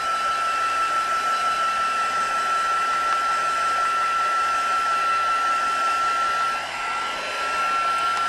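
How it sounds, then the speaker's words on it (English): Heat gun blowing hot air over a card painted with watercolour inks, a steady, loud whooshing roar with a constant whine that continues alone throughout, dipping briefly near the end. "Might give it just a little bit of a dry with the heat gun."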